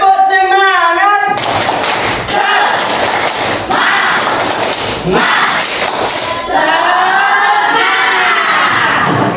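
Children in a classroom perform the tepuk semangat clapping chant, loud close bursts of group clapping alternating with shouted chanting in a quick repeated rhythm, led by an adult voice at the start.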